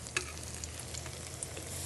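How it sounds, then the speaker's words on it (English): Faint steady sizzling of chicken cutlets frying in hot olive oil, with a few small pops and crackles. "Oh, look at that sizzle."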